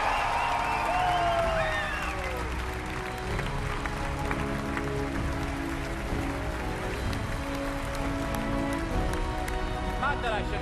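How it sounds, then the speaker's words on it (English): A large audience at the E3 2015 Fallout 4 showcase applauds and cheers in a dense, steady roar that fills the hall for the full length, with whoops over the top. "can I please get another round of applause for that man?"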